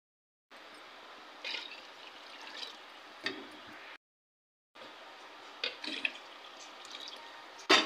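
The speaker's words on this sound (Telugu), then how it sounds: "నీళ్ళు 3 చెంబులు వేస్తున్నాను." Water poured steadily into a pot for chicken biryani: two long splashing, trickling pours separated by a short pause, close and clear with small irregular splashes.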